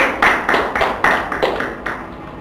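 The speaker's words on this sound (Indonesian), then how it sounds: "kita beri aplaus untuk kelompoknya Mas Budi" Applause from a class group after a group presentation in an online Indonesian-language lesson: a short run of fairly even, rhythmic claps, several beats close together, moderately loud with no talk over them.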